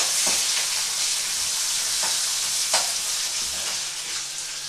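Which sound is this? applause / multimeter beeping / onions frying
onions frying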